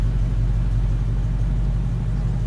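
A 1972 Rambler Javelin with a 401 cubic inch V8 idles close by, a steady, deep rumbling burble without any voices.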